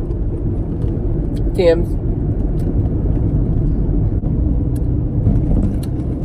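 A car's engine and road rumble heard from inside the cabin while driving, a steady low drone running the whole time beneath a person talking, with a brief higher chirp partway through.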